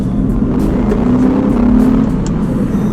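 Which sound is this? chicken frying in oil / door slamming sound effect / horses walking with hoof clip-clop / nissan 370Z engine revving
nissan 370Z engine revving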